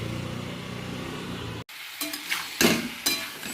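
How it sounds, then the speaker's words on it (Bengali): Soybean chunks sautéing in a pan: a steady sizzle with a low hum, then after a brief gap, intermittent scraping and stirring bursts of sizzle up close. "সয়াবিনটা কষাচ্ছি এখন।"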